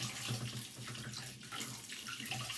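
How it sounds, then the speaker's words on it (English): Tap water streams steadily while produce is rinsed under it, a loud continuous close rush of running water with no talking. "So I'm just going to just rinse it off a little bit more."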